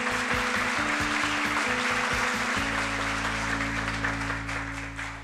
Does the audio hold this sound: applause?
yes